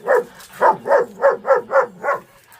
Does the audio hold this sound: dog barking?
yes